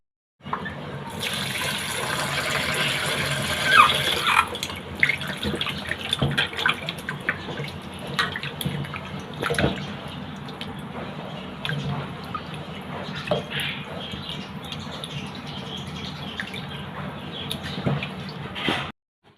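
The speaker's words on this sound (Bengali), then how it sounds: "এখন মাছগুলো সুন্দর করে ধুয়ে নেব।" Tap water runs steadily into a sink while cut fish, a Bangladeshi goby, are rinsed by hand. The gushing is loud and close, with splashes and shifting flow throughout and no talking.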